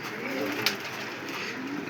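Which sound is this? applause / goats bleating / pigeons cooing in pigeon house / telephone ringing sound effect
pigeons cooing in pigeon house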